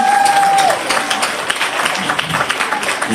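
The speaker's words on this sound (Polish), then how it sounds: "Wielkie, wielkie brawa." A crowd at a charity benefit concert auction applauds, dense clapping that is loudest at the start and then continues evenly, with a brief tone sounding over the opening.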